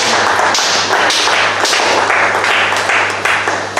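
A church conference congregation in Abidjan bursts into loud, sustained applause and acclaim, dense clapping with repeated surges and a steady hum underneath.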